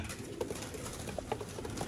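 Breeder pigeons in a loft give soft, low coos among faint scattered bird sounds over a steady background hum, with no one speaking.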